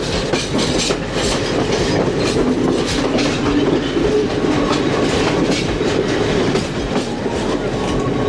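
Train carriage rolling across the Nine Arch Bridge, a steady close rumble of wheels with faint clickety-clack over the rails running continuously throughout.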